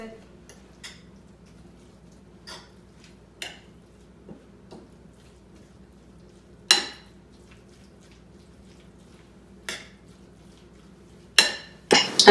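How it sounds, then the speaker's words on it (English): Chicken tinga being mixed with sour cream and cheese: sparse, soft clinks and scrapes of a utensil against a dish, spaced irregularly over a quiet background, growing a little busier at the end. "And then I mix it."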